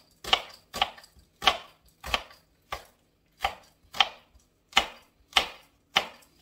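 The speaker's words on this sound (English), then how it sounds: "do a very small chop" A knife finely chops onions on a cutting board, about a dozen crisp, sharp chops in a fairly steady rhythm, close and clear with no voices.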